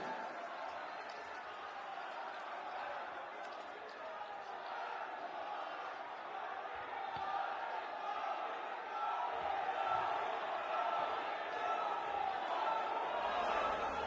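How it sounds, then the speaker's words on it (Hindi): A large crowd at Prime Minister Modi's rally in Begusarai, Bihar applauds and cheers in welcome, a continuous roar of clapping and voices that swells slightly toward the end. "जोरदार तालियों के साथ स्वागत करें हमारे माननीय प्रधानमंत्री जी का।"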